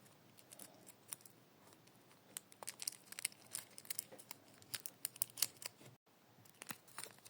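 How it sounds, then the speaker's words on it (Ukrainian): A small parcel is unpacked by hand, with quick bursts of paper and plastic crinkling, tearing and snipping in an irregular rhythm, close and fairly quiet, with no talking. "Давайте розпакуємо."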